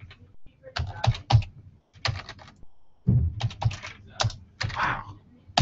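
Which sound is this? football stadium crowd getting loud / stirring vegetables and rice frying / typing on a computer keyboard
typing on a computer keyboard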